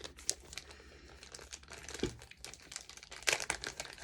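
Tarot cards crinkle and rustle as they are handled and drawn from the deck during a reading, with soft close shuffling noises and a few sharper papery snaps, no voice.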